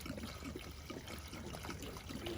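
Petrol is poured from a container to soak a rifle bolt during gun cleaning, making a continuous, fairly quiet liquid trickle with a gurgle at close range and no talk.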